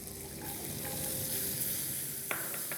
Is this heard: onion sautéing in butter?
yes